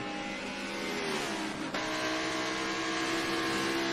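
An Audi R8 GT race car engine in a racing video game at Maple Valley wails steadily at high revs, dips briefly on a gear shift, then climbs again, loud and continuous.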